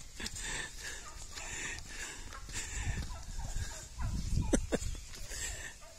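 Turkeys gobbling in a field, several bursts of loud rattling gobbles from fairly close birds, clustered toward the end over an outdoor background.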